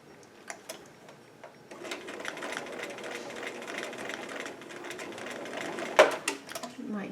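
A domestic sewing machine zigzag-stitches knitted toy fabric, a continuous rapid mechanical whir with ticking, close and steady after a few isolated clicks, ending in a sharper clunk.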